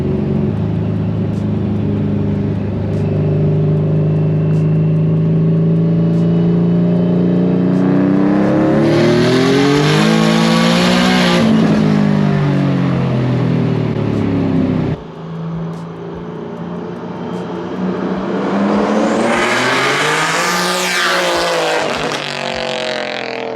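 A single-turbo HR-swapped Nissan S15 revs hard on a dyno, its engine climbing loudly through the gears with a sharp drop between pulls, then winding up again to a high, screaming peak.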